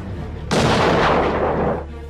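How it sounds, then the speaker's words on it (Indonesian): A sniper rifle fires once in a film scene, a sudden loud crack that swells into a rolling, booming tail lasting over a second before fading. "Miller mencoba melepaskan tembakan yang kedua"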